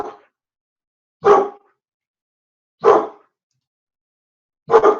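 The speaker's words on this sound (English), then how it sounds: "Oh my gosh, dogs." Dogs barking in the home, four separate loud, close woofs spaced about a second and a half apart, with silence between them.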